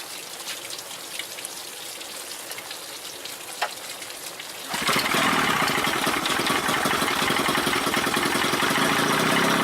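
A 1990 Johnson 30 hp outboard motor catches on its first pull during light rain, then jumps into a loud, steady running roar that holds to the end.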